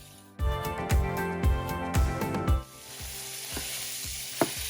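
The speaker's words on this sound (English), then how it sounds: "So I have been frying this up for a couple minutes now" Ground meat frying in a pan for crouton stuffing, a steady close sizzle with several rhythmic stirring scrapes and clanks early on, then a quieter continuous crackle with a sharp clink near the end.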